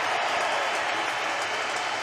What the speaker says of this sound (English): Leo Messi there with the boys, receiving the applause of the whole stadium